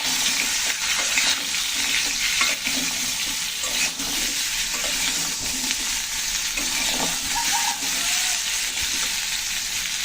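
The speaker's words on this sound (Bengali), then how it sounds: "তরকারিগুলো ভালো করে ভেজে নেবো।" Mixed vegetables with a little turmeric fry steadily in a pan for a sour-curd vegetable curry, a constant loud sizzle with scraping stir strokes running through it, and no voices.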